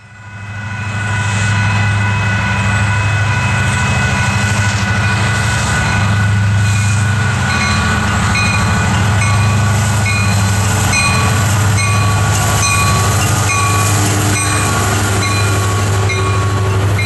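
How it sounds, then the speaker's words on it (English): An eastbound Union Pacific grain train rolls by on an Iowa mainline, a loud sustained rumble of freight cars with steady wheel clatter and squealing tones. "Before leaving town, we see one of these, an eastbound grain train."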